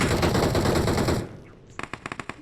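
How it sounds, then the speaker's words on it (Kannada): Gunfire in the PUBG video game on the Erangel map: a loud, sustained burst of rapid automatic fire stops abruptly, then a string of evenly spaced single shots rings out. "ಎಲ್ಲವ್ರೆ ಎಲ್ಲಿಂದ ಹೊಡಿತಾವ್ರೆ ಅಂತ ಗೊತ್ತಾಗ್ತಾ ಇಲ್ಲ"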